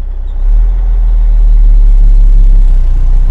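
A dump truck's heavy diesel engine drones steadily in a higher gear on snow, a loud low rumble that swells after the first half second and holds constant with no talking.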